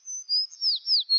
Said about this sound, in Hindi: वह तो चिड़िया है।